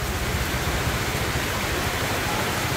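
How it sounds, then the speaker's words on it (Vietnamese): Heavy rain pours steadily in the Vietnamese countryside near the Tiền River, a dense, even hiss with no pauses. "Mà về chạy về tới đây quá trời mưa luôn"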